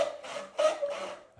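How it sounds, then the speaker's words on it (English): Joinery hand saw cutting wood with the grain: four smooth, even rasping strokes in a steady back-and-forth rhythm, close and moderately loud with no talking. "here's the sound of sawing with the grain"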